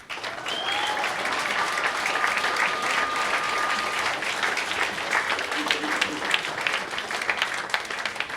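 Sustained audience applause at a paramedic program pinning ceremony for a graduating class, a dense, steady wash of many hands clapping with faint voices mixed in throughout.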